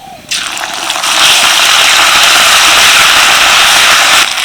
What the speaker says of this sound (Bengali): এবার দিয়ে দিচ্ছি আদা বাটা